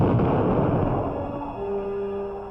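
Naval gun salvo at sea, a loud booming blast opening and rolling into a long decaying rumble with a faint lingering tone.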